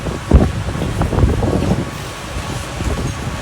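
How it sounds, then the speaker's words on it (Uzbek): A strong, dusty windstorm sweeps across the Khorezm and Bukhara regions of Uzbekistan in April, producing steady, roaring gusts with low rumbling buffeting against the microphone, and no voices. "14-aprel kuni Xorazm va Buxoro viloyatlarida chang aralash kuchli shamol kuzatildi."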